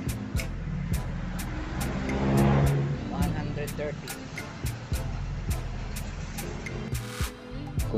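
A car engine cranks over steadily during a compression test on cylinder number 4, with an even, rhythmic pulsing that runs throughout, and voices heard in the background.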